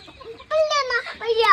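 A hen clucks close by in a short run of loud, rising calls, with a brief pause between the two bursts.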